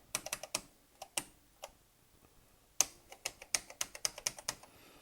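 Bursts of clicky key presses on a Thomson TO8D computer keyboard, close and fairly quiet, tapping in quick uneven clusters with a short lull in the middle before a denser run.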